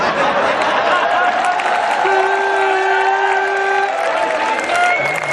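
An audience at a Hindi poetry gathering (kavi sammelan) claps and cheers in a loud, sustained wave, with some laughter and a voice mixed in.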